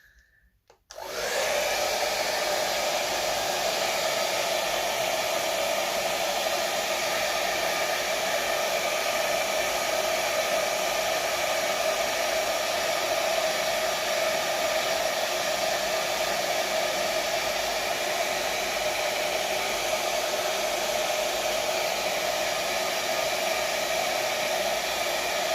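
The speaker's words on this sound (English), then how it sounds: "So I'll just carry on drying it for now." Hair dryer blowing on a man's beard switches on after a moment of silence, then a steady, loud, close whooshing roar with a constant motor whine runs unbroken to the end.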